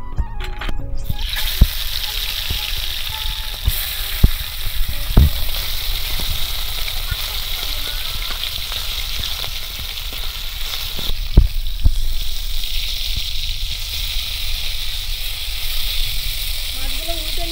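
Fish frying in hot mustard oil in a kadai: a steady, loud hiss of sizzling oil close by, with occasional utensil clinks and a faint voice near the start.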